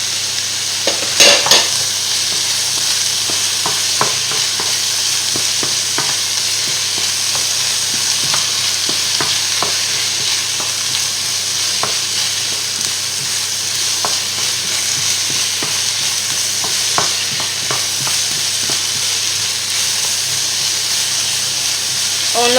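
Leeks cooking in a pan for veal paupiettes give a steady loud sizzle and hiss of frying with steam throughout, broken by scattered stirring scrapes and clicks.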